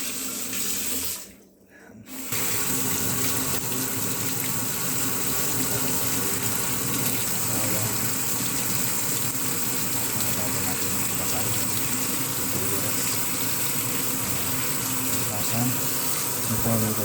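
A kitchen tap running steadily as onions are washed, a loud continuous gush broken only by a short pause near the start.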